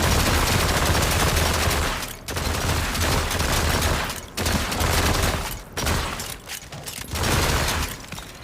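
Sustained light machine gun fire in a video game, a loud, dense automatic stream broken by a few short pauses, with no talk over it.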